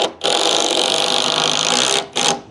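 Power driver whirring as it starts a screw into a wooden wall stud during wall framing, one long continuous run followed by a short second burst, close and fairly loud.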